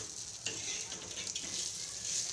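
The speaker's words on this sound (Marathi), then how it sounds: "लावू आता हिरव्या मिरच्या खोबरं डाळ खसखस वगैरे सगळं याचं मिक्स केलं आहे आता याला आपण चांगलं भाजून घेऊ" Green chillies, coconut, lentils and poppy seeds dry-roasting in a pan give a steady, soft sizzle with light scraping from stirring, faint and continuous throughout.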